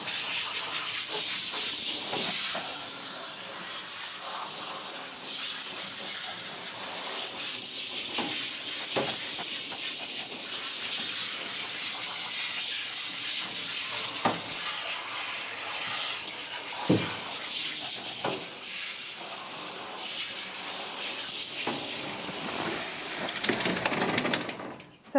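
Dog grooming dryer with a nozzle attached blowing air during a Shih Tzu bath and trim, a continuous loud hissing rush with small shifts in strength as the airflow moves.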